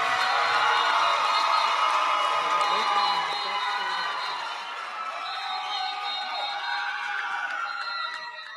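A crowd at the William H. Bowen School of Law spring 2024 commencement cheers and whoops loudly and continuously, the noise holding strong, dipping slightly partway, then carrying on.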